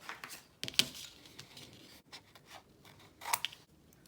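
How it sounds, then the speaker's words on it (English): Scissors cutting out a paper Christmas tree shape for a pop-up card: intermittent close snips and crisp paper rustles, quiet and uneven, with no voices. "Now use a scissor to cut it out."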